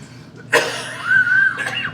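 A single sharp sneeze close up, with a brief voiced tail and a soft breath afterward.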